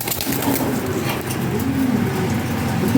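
Racer pigeons coo in low, throaty, overlapping calls at a pigeon seller's loft, a steady murmur that runs throughout under light background noise.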